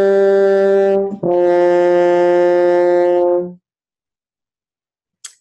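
French horn plays the descending opening notes of "Hot Cross Buns," starting on a high note and stepping down in long, sustained tones, close and loud, followed by silence.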